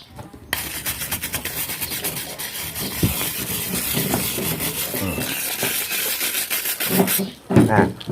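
A brush scrubs the head of a clogged gas stove burner that gives a weak flame, making steady close rasping and rubbing strokes with a few louder knocks along the way.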